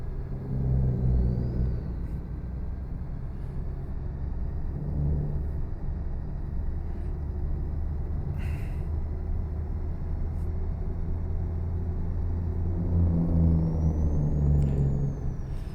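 Heavy truck on a Mexican road rumbles steadily under Jake brake engine braking, a loud, continuous low drone with a faint hiss of air and little variation over its length.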